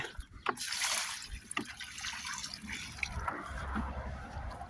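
Water poured from above onto soil around a freshly planted coconut seedling in a nursery bag, a steady close splashing trickle with brief drips, fairly quiet and continuous.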